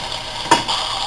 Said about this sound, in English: We're going to turn it over. It's going to sizzle again really loud.